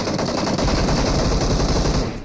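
Rapid gunfire from a Winchester rifle in PUBG Mobile, a loud, dense burst of shots lasting about two seconds before tailing off.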